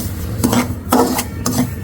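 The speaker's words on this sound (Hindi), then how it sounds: "इसको बहुत ज़्यादा चम्मच हिलाना पड़ता है कि ये लगे ना" A spoon scrapes and stirs semolina panjeeri roasting in ghee in a pan, with close, rasping strokes repeated in an uneven rhythm.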